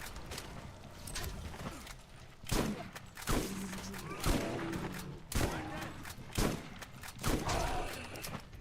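Shotgun blasts from a Borderlands-series first-person shooter, several loud booming shots spaced irregularly a second or so apart, with game effects and explosions mixed in between.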